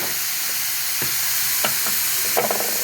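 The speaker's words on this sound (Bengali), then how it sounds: "ভালো করে একটু নাড়াচাড়া করে দেবো" Radish pieces frying in a pan and being stirred, a loud steady sizzle broken by several sharp scraping strokes of the spatula, close up and with no voices.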